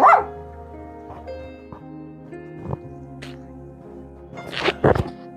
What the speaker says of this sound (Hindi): ऐसे भौंकती